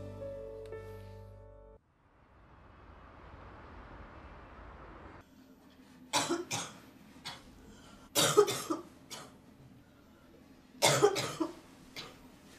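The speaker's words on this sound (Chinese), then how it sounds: "你怎么在咳嗽啊？" A woman coughs in several short bursts, close and fairly loud, separated by quiet pauses after a stretch of low background hum and rustle.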